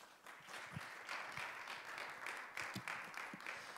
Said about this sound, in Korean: 우리 큰 박수로 맞아주겠습니다.